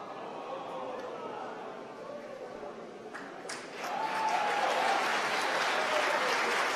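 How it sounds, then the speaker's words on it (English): A crowd in a SpaceX mission control room applauds after a Falcon 9 first stage lands, steady clapping that swells louder partway through and continues with cheering and chatter. "You can hear from the applause."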